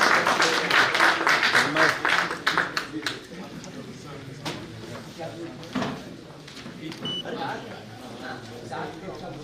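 An audience applauds to welcome a guest invited onto the stage at a Datta Jayanti function, with dense clapping loudest at the start and fading into a quieter patter under ongoing voices and room noise.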